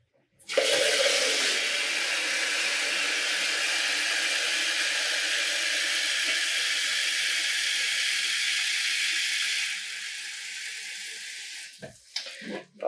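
Water pours steadily into a pot for dyeing yarn, a loud continuous gushing stream lasting about nine seconds before easing off and stopping with a few brief clunks.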